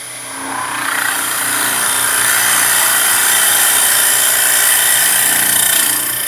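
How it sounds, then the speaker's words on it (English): A scraper cuts wood on a Robert Sorby TurnMaster lathe, throwing off curly shavings with a loud, sustained rushing whir that swells in after a moment and holds steady to the end. "So although it is a scraper, it is creating a nice cut."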